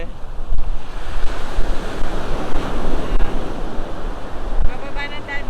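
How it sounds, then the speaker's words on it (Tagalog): Ocean waves rolling in and breaking on a beach, a loud continuous roar of surf with swells of louder crashes, mixed with heavy wind buffeting the microphone throughout. "Padating na yung alon"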